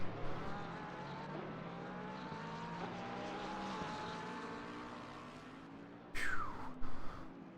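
Lexus and BMW race cars in a racing sim brake hard into the Parabolica at Monza, engines whining loudly and dropping in pitch through downshifts, ending in a sharp high-revving burst.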